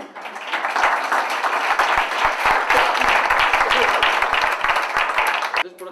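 Applause for a waitress in a restaurant: a roomful of people clap in a dense, lively burst lasting several seconds before stopping abruptly, with voices mixed in.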